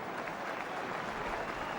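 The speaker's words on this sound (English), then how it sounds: "the crowd saluting his excellence" A hurling crowd at a National Hurling League match applauds a scored point with steady, dense clapping that holds throughout at a moderate distance.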